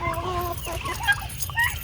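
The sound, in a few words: chickens clucking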